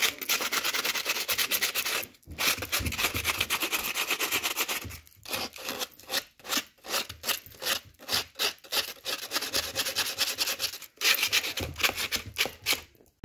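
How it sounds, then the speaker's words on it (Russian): Sandpaper rubbed by hand over a cleaned-up object, loud close scraping strokes in continuous bursts that break into quicker rhythmic back-and-forth rubs, with brief pauses and no speech. "Осталось нам только зачистить его наждачкой."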